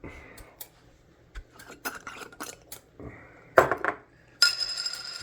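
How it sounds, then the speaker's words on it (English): A glass jar of celery seed is handled and opened in a kitchen: scattered close clinks, taps and clatters of glass and lid, ending in a brighter metallic rattle. "Let me open this jar up."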